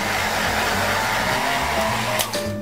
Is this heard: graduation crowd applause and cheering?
no